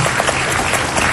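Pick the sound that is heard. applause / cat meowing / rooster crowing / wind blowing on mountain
applause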